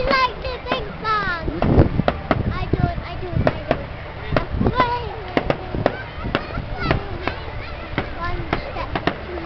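Bonfire night fireworks in Aberdeen, sharp bangs and crackles popping at irregular intervals, some close and loud, with people talking and children's voices throughout.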